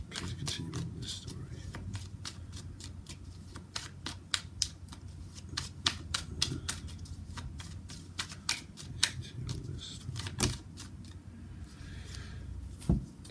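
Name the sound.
tarot cards being shuffled and laid out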